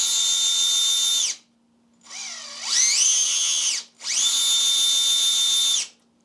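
Electric motor of an upgraded Axial Capra UTB18 four-wheel-steer RC crawler revving at high speed, a loud steady whine in three long bursts with rising and falling pitch and short gaps between.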